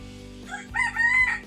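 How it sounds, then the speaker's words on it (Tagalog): A rooster crows once nearby, a loud, drawn-out call rising over a steady low background hum. "Ayun, may manok."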